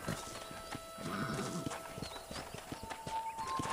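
A horse gallops with rapid clip-clop hoofbeats in the Western video game Red Dead Redemption, with a brief neigh mixed in, all fairly quiet and steady.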